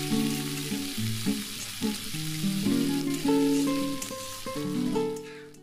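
Grated ginger frying in a tempering for moong dal, a soft continuous sizzle running beneath prominent sustained musical tones that fill the whole stretch, with no talk.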